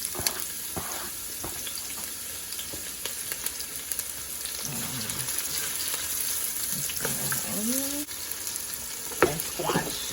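Chopped onion frying in a hot pan while dinner is cooked, a steady close sizzle with occasional stirring scrapes and faint kitchen clatter, no one speaking.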